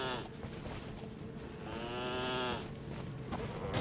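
Sheep in the video game Elden Ring: Shadow of the Erdtree give two drawn-out, low bleats that sound almost like lowing, one early and a longer one midway, over a noisy background.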